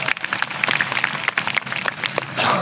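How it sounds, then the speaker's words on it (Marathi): Children in a classroom clap for a classmate, with dense, steady applause of many small hands running throughout, fairly close and lively. "सर्वांनी जोरदार टाळ्या द्या त्याला"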